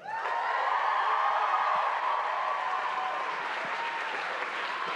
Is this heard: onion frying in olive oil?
no